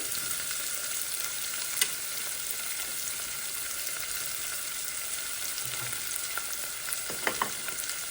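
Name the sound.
garlic sautéing in a pan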